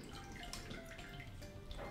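Water draining off washed vermicelli in a kitchen, a soft, quiet trickle with scattered drips and light splashes, fairly close and continuous.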